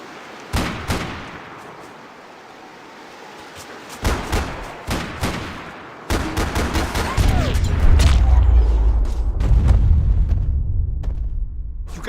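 Gunfire in the video game Max Payne 3, scattered sharp single shots at first, then a dense burst of rapid shots, with heavy low rumbling building toward the end.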